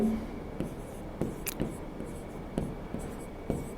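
Chalk or marker writing on a classroom board during a Hindi-language physics lesson, with soft scratchy strokes and several sharper taps spread across a few seconds, fairly quiet with low room noise.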